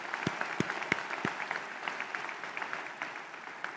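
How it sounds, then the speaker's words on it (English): An audience at a Grand Valley State University commencement breaks into sustained applause, a dense wash of many hands clapping steadily with a few sharper claps standing out, fairly distant in a large hall. "Give that a round of applause."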